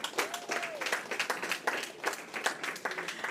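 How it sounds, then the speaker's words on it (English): A small group applauds children at a robotics camp exhibition, quiet scattered clapping with uneven bursts, plus a few brief voices over it. "Give them all a round of applause."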